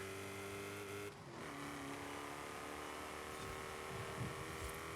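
A car with a centrifugal ProCharger supercharger in Forza Horizon 5, about 450 horsepower, revving steadily with a sustained whining engine tone that dips briefly then holds, fairly faint and continuous with no voices.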